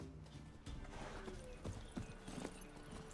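Horse hooves clip-clopping in The Witcher 3: Wild Hunt, a quick rhythmic series of hoofbeats at low level with faint game voices and ambience around them.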